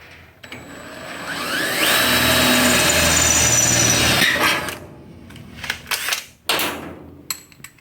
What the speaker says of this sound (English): So I'm gonna go ahead and drill my first bolt.